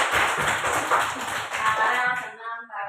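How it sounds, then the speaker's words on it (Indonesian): Students in a classroom clap for a classmate, a dense patter of many hands that carries on steadily before tapering off near the end. "Luar biasa, tepuk tangan dulu."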